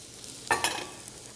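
Onions and peppers sizzle in hot oil, a soft steady hiss topped by two quick scraping strokes in the middle, close but fairly quiet with no talking.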